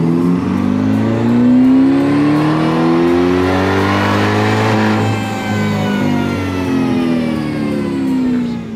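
A Procharger-supercharged C8 Corvette with a custom ECM calibration runs hard on a dyno, its loud, close engine note sweeping up through the revs, dipping, then climbing again for the whole run, with no talking.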